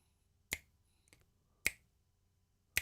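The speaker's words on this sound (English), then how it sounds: "Finger snaps, a lot of finger snaps." Three sharp finger snaps ring out roughly a second apart, crisp and close, with a faint softer click between them.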